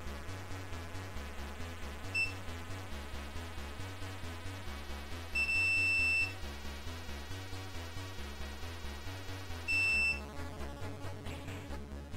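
A multimeter continuity tester beeps while probing a shorted Nvidia GeForce GTX 1050 Ti graphics card. There is one brief chirp, then two longer steady beeps spaced several seconds apart, all faint over a low background hum.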